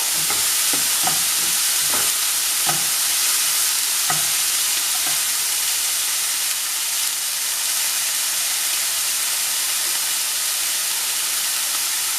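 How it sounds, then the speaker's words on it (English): Tomato, onion, green chilies and garlic frying in a pan for dum aloo, a steady broad sizzle with a few clinks of stirring early on, close and continuous with no talking. "I fried that tomato and onion, the chilies, the garlic, everything"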